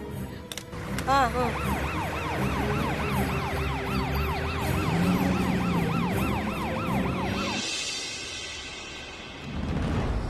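An ambulance siren wails in a Tamil drama scene, its rising and falling tone repeating steadily and loudly for several seconds before cutting off into a brief burst of hiss and background noise.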